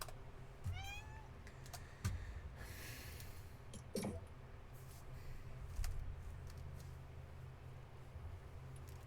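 A cat lets out a single rising meow early on, close but fairly quiet, followed by soft snorting breaths and faint thumps over a low background hum.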